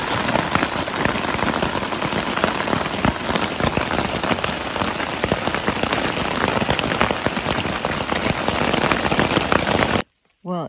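Heavy rain pours steadily onto a tent at a stealth campsite along the Appalachian Trail, a dense, close drumming of drops that continues without letup before cutting off abruptly near the end.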